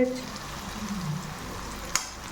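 Spices roasting in a pan for a Punjabi-style black chickpea curry, a steady close frying sizzle with soft stirring scrapes and one brief sharp clink near the end.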